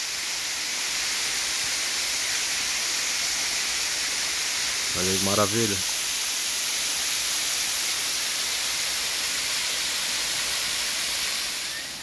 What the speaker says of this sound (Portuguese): Aqui é a Cachoeira do Jenipapeiro.